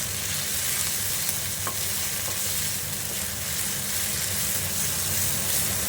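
Pea filling being stirred as it fries in a pan, a steady even sizzle with soft scraping, close and continuous with no pauses.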